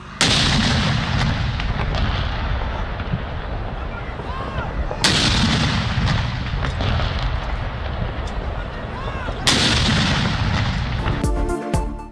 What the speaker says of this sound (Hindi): वफाकी और सूबाई दारुल हुकूमतों में तोपों की सलामी दी गई।